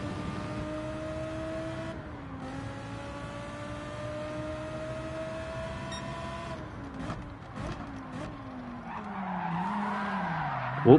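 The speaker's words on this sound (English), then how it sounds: "Tried to do a little handbrake turn after obviously going a bit too deep" Race car tires skidding and squealing through a handbrake turn in Gran Turismo 7 GT3 racing, a steady engine drone with drawn-out sliding squeal that rises into a loud scrubbing screech near the end.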